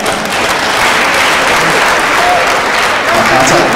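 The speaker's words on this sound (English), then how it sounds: "Let's give a round of applause, guys" Loud, continuous audience applause at a youth and justice forum after a speaker finishes, a thick wash of clapping that stays level throughout, with faint voices mixed in.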